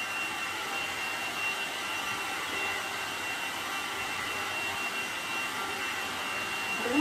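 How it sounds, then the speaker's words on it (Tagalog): A handheld hair dryer blows on someone's hair with a steady whooshing roar and a faint whine, unbroken for several seconds at moderate volume, with no voices. "binablower siya ang kanyang hair"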